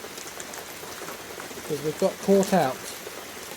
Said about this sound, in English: We're in a little hut hiding from the rain